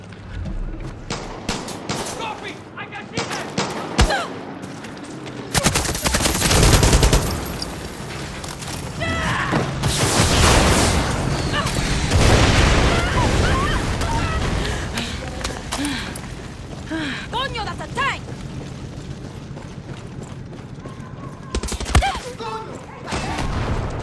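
Explosive charges detonate in the Far Cry 6 video game on PS5, with repeated heavy booms, rattling bursts of gunfire-like blasts and crashing debris filling most of the stretch, loud and dense throughout.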